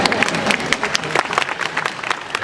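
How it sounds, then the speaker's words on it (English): An audience claps for a seminar speaker at the Sydney Home Show 2014: dense, steady applause of many hands that fills the whole stretch at an even level, with no pause. "I'd love a clap"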